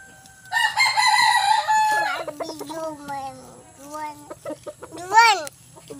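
A yellow-legged pumpkin sweater rooster crows loudly and close in a backyard, one long drawn-out call followed by clucks and a second shorter crow, with a voice nearby.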